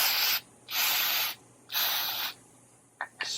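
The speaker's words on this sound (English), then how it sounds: "Spray the connector as well. This is just mass airflow sensor cleaner." Mass airflow sensor cleaner sprayed onto a car connector in three steady bursts of aerosol hiss, each about a second long, with short pauses between, then a couple of brief clicks.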